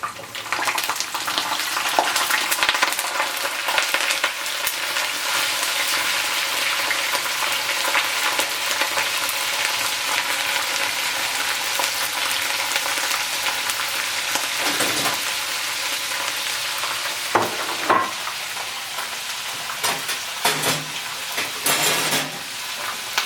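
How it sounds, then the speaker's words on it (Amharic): Green beans (fosoliya) fry in hot oil in a pan, giving a loud, steady sizzle that runs unbroken throughout, with occasional clinks and stirring noises near the end and no talking. "አሁን እኔ ፎሶሊያን እጠብሳለሁ መጀመሪያ እና እጨምራለሁ"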